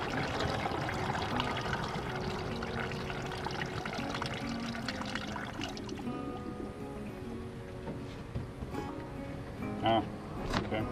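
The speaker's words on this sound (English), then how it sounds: "I've been adding fluid, and I filled it to the low level, and then by the time it's done bubbling, it's time to add some more" Coolant fluid trickles and pours into the inverter reservoir of a 2007 Toyota Prius, with steady bubbling and gurgling as air works out of the system and someone speaking quietly now and then.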